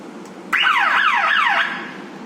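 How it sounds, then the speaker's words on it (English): A machine's start-up alarm in an abandoned hospital sounds a loud electronic warbling tone that sweeps up and down about three times, close and clear over faint room hiss, then cuts off. "Oh, that's the starting alarm."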